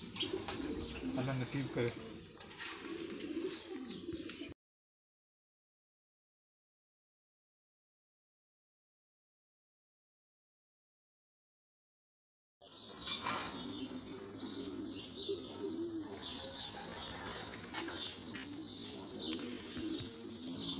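A Jan Aarden racing pigeon coos softly and close, mixed in with someone talking, then goes silent for several seconds before the cooing and talk return.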